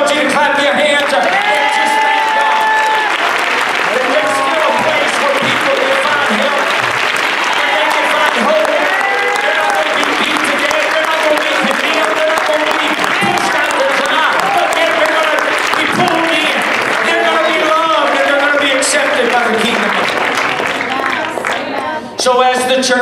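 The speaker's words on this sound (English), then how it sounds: "I want you to clap your hands up" Church congregation applauding and clapping hands during a sermon, a dense, loud, sustained wash of clapping with scattered cheers and whoops lasting throughout, tapering off only at the very end.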